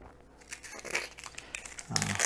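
Papery outer layers of an onion crinkle and tear as they are peeled back by hand, a soft dry crackling that rises into a louder rustle near the end, with no talking.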